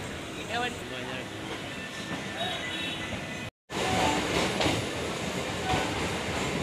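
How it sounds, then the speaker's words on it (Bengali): Circular railway train pulling out of Bagbazar station in Kolkata, a steady close rumble of wheels and carriage noise with faint clatter, briefly cut off midway and then continuing loud. "আমরা বাগবাজার স্টেশন ছাড়ছি।"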